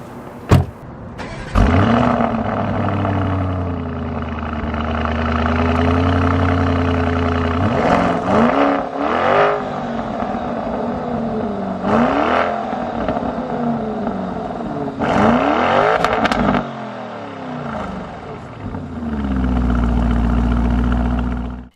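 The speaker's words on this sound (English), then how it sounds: "getting into a Lamborghini and driving it" A 2019 Lamborghini Urus SUV drives along with a steady engine drone rising and falling through gear changes, punctuated by louder revving surges, heard from inside with no talk.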